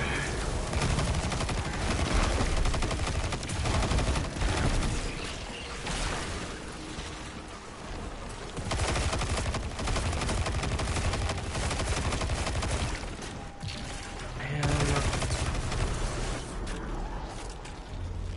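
An auto rifle in the video game Destiny 2 fires in long, dense automatic bursts, loud and close, with brief pauses between strings of rapid shots and no voices over them.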